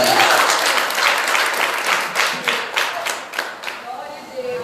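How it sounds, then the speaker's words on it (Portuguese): A church congregation bursts into loud applause during an evening sermon, the clapping strong at first, then thinning into scattered claps toward the end. "aplauda o Senhor nessa noite em nome de Jesus"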